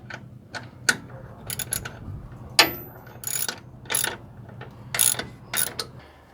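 Ratchet clicking in short bursts while tightening a part on a Ford F-150 during a 1.5-inch front lift spring install, sharp close ticks separated by brief pauses over several seconds.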